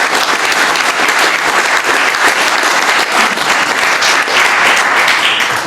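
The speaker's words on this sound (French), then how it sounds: "Déjà, on applaudit." Conference audience in a hall applauding, a dense, loud, sustained wash of clapping from many hands with no pause.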